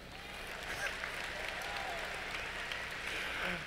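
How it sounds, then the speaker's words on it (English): Faint, distant audience applause fills a 2015 graduation ceremony hall, a steady diffuse wash of clapping from a large crowd heard throughout at low volume. "That's an applause line,"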